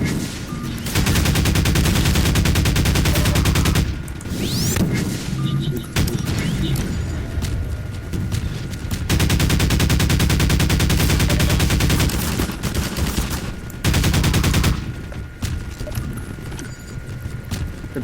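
Pistol gunfire in the video game Half-Life 2, fast repeated shots in loud sustained bursts over a dense mix of game sound, with brief pauses between the volleys.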